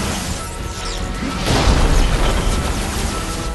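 Cannons destroyed in Disney Infinity 2.0 break apart in a loud, rumbling explosion that swells midway and lingers as a dense crash, preceded by softer clatter, with no talk.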